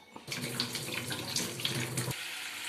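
Kitchen tap running water over a potato being washed for cooking, a steady close splashing stream that starts abruptly and cuts off near the end.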